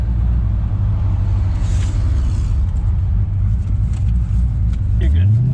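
An LS-swapped 1992 Mazda RX-7 FD with a Holley Terminator X idles at about 850 RPM, giving a loud, close, steady low rumble that holds evenly throughout.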